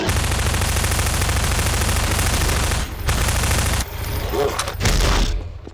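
Sustained automatic gunfire from a Garry's Mod game, dense and loud throughout with brief dips around the third and fourth seconds before heavy bursts resume.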